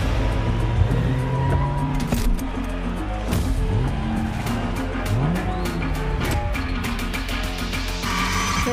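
Cars drift through a Gymkhana course in the racing game The Crew Motorfest, with loud, close tire squeals that rise and fall and engines revving hard throughout, with no voices.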